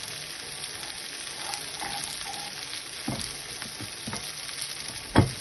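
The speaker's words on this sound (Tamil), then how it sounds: "போட்டு இனி நல்லா கோல்டன் ப்ரௌனா வதக்கி" Turmeric, ginger and garlic sautéing in a pan, giving a steady faint sizzle and fry with a few soft stirring knocks and one sharper clatter near the end.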